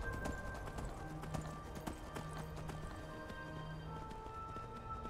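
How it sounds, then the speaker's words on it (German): Horse hoofbeats while riding cross-country in Skyrim, a steady, moderately quiet clip-clop gait repeating throughout over faint ambient game sound, with no speech. "Aber vielleicht mal nicht auf dem Weg reiten, sondern ein bisschen querfeld einreiten"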